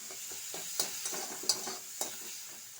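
Spice masala with chilli powder being sautéed in a pan, quiet sizzling broken by several distinct scraping stirs of a spatula in an uneven rhythm.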